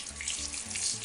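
Tap water runs steadily into a sink while makeup brushes are rinsed, a short, close, even hiss with no voices.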